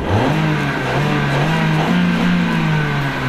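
A Volkswagen engine, its immobilizer disabled and its key wrapped in aluminium foil, catches and revs up, its pitch climbing and settling into a loud, close, steady run with a second rise in revs.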